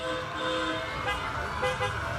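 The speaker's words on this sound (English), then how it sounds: "Are they honking?" Car horns toot during a nighttime Christmas parade of lights in Fort Worth, a steady honking blend over crowd and festive music noise, fairly loud and continuous.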